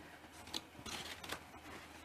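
Card stock being creased and folded by hand while making an envelope punch board box, giving a few quiet, close papery crinkles and rustles with no talk.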